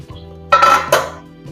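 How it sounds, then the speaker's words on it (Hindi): A cover comes off a pot of beef paya cooking over a medium flame, giving two quick metallic clanks and a brief rattle, close and loud, with no voices. "मीडियम फ्लेम पर कुक होते हुए 5 मिनट हो चुके हैं। हटाते हैं कवर।"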